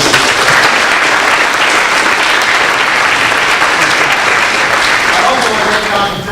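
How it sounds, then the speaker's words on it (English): Sustained applause from an audience at a business school recognition and scholarship reception, a dense, steady wash of clapping that holds loud and even for several seconds before easing slightly at the end. "So let's give John a round of applause."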